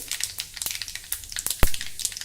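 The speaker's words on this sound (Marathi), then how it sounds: "तेल गरम झालं की त्यामध्ये मोहरी घालूया मोहरी तळतळली की जिरे घालूया" Mustard seeds and cumin sizzling in hot oil: close, rapid crackling and popping with irregular sharp snaps, one louder pop standing out, with no talk over it.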